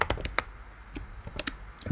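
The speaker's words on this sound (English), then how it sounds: "Typing the new password" Quick, uneven clicks of computer keys being typed, close by, in short bursts with brief pauses between keystrokes.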